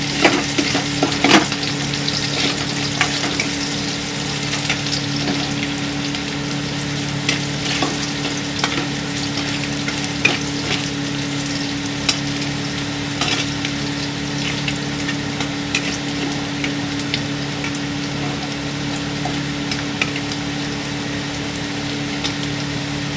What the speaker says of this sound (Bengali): দেখুন আমি রসুনটা হালকা করে নাড়িয়ে নিয়েছি